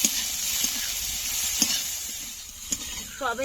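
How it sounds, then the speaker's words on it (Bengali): Soybean chunks fry in a pan with salt and a little turmeric, making a moderate crackling sizzle with occasional stirring clicks up close. "এবার সোয়াবিনটা ভালো করে ভেজে নেবো"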